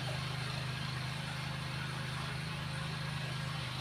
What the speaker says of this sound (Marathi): काकाने ट्रॅक्टर चालू केलाय